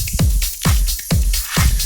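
Electro drum groove at 131 BPM, with punchy kick hits on each beat and bright hissy percussion layered between them, steady and upfront.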